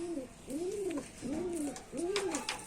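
Rajshahi Giribaz pigeons cooing close by, three evenly spaced rising-and-falling coos about a second apart, soft and clear against a quiet background.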